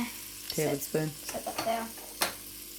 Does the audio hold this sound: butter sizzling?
yes